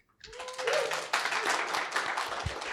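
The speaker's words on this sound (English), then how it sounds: "Applause." Audience applause at a live podcast summit, a burst of clapping that starts abruptly and holds steady, close and fairly loud.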